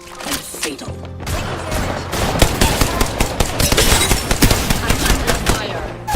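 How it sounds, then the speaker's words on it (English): Rapid bursts of gunfire and impacts from an Apex Legends firefight fill the whole clip, loud and dense, with crashing hits over ongoing shooting. "I'm under fire."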